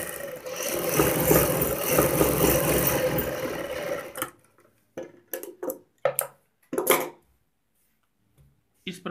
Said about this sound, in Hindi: अब इस सिलाई को हम डबल सिलाई कर लेते हैं